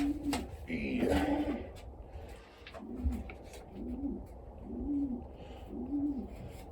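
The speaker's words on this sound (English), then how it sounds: "He's a nice, lovely tame bird." A tame cock pigeon coos in a steady series of soft, low, rolling calls, close by, while someone talks briefly over the start.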